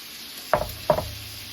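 T-bone steaks cooking in a skillet give two short, sharp sizzling bursts about half a second apart, then fade to a quiet, steady low hum.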